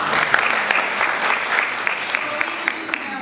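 An audience claps at an evening award ceremony, a dense, sustained round of applause from many hands filling the room, with a voice faintly heard under it.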